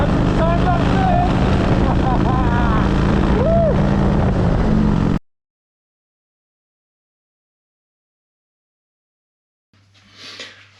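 Motorcycle engine roaring steadily while riding, loud and close with constant drone and rising pitch sweeps, cutting off abruptly after about five seconds; a faint burst returns near the end.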